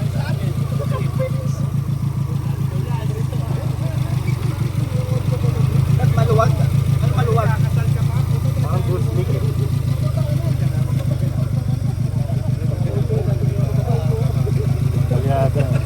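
A rally car engine runs roughly and misfires, with a low, uneven idle and clattering pulses. Voices talk over it close by.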